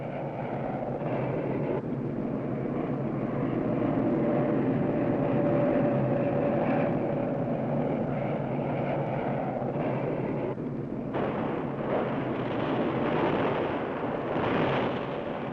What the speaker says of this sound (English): And then there are the B-52 bombers striking from nearby Thailand